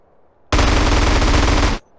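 Rapid automatic gunfire in GTA San Andreas, one loud, dense burst lasting about a second with abrupt start and stop, heard close against near silence.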